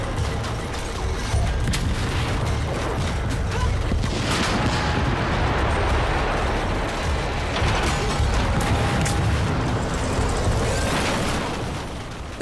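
Explosions and rapid gunfire boom through a Shadow of the Tomb Raider battle, a dense, continuous barrage of blasts and shots that stays loud for the whole stretch.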